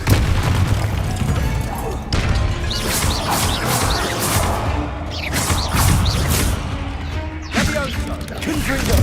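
Fiery spell blasts from the Confringo curse in Hogwarts Legacy, several loud explosive booms and crashes in quick succession over constant game noise and music, with a player's voice talking now and then.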